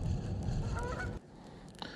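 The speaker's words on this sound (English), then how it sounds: "it's about all the geese been in here getting ready for their nesting season." Several geese honk near a bass-fishing lake in nesting season, loud dense calls filling the first second before dropping off, with a couple of fainter honks near the end.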